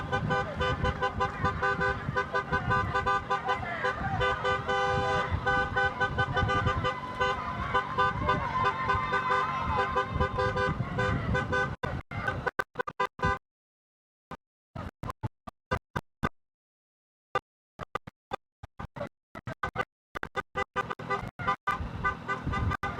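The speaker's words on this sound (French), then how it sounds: "Concert de klaxon." Car horns blaring together in a honking chorus at a stage of a cycling race, loud and sustained at first, then breaking into choppy bursts with sudden gaps and toots.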